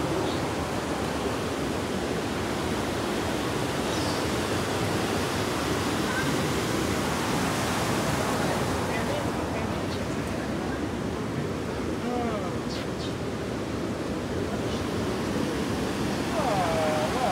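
Ocean surf rolls onto the beach at Mandarmani as a constant broad roar of breaking waves, with faint voices of people chatting nearby.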